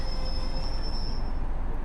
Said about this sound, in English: So we're just going to stop the train.